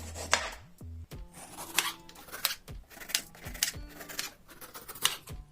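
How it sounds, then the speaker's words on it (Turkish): A knife slices an onion into thin half-rings, chopping repeatedly against a cutting board in quick, uneven strokes, close and crisp, with faint kitchen background noise. "soğanı yarım halka şeklinde ince ince edip"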